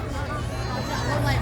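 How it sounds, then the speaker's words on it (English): Dense crowd chatter and hubbub along Blackpool's busy Golden Mile central promenade, a steady wash of many voices close around with no single voice standing out. "Right, I'm well in the crowd now."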